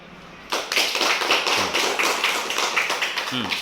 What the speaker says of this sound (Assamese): হাত চাপৰি দিয়া।